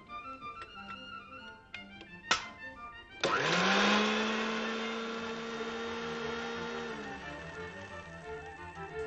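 A blender whirs loudly after a few light clicks and taps, grinding chilli paste steadily at high speed for several seconds before winding down.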